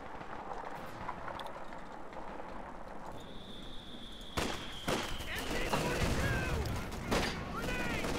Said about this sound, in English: Oh, nice grenade from Aimstrong.